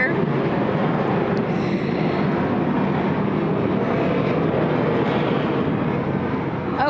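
An airplane flies overhead at an air show as a loud, steady, wide roar that fills the whole stretch without letup, with a voice faintly buried beneath it.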